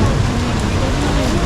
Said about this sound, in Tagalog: So, lumalala po yung ulan.